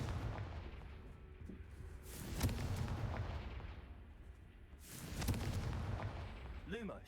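Confringo blasting spell explosions in the video game Hogwarts Legacy: two loud booming blasts with rumbling tails a few seconds apart, over low background rumble, ending in a brief sweeping effect.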